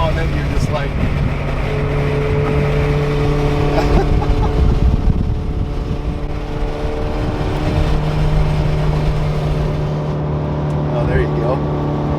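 Ferrari F430 Berlinetta F1 engine at high revs, a loud sustained mechanical drone from inside the car, with people talking over it.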